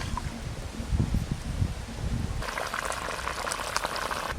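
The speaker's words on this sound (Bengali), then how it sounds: "ঝোল তো খুব ভালো করে ফুটে গেল" A pot of curry with peas and fried potatoes bubbles at a rolling boil, a continuous close churning gurgle that brightens partway through, with no voices.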